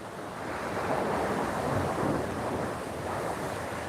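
Waves breaking along Waikiki Beach in Hawaii at sunrise, a continuous broad roar of surf swelling gently and easing off, heard from some distance up the sand with light wind noise and no talking.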